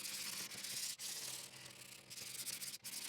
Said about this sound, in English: it is nice to get these rough edges a nice sanding